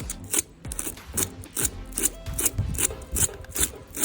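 A knife scrapes across iguana skin in rhythmic, rasping strokes, roughly eight close, fairly loud passes at a steady pace with short pauses between them and no talking.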